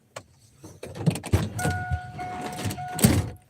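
A pickup truck's door-open warning chime sounds with the door open, a steady electronic tone pulsing on and off over rustling, key jingling and cabin handling noises, with no talking.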